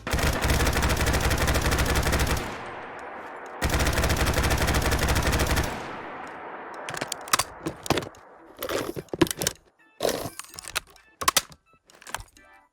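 An M249 SAW machine gun fires from a modern weapons mod for Fallout 4: two long, loud continuous bursts, then sparse clicks and clacks of handling and reloading.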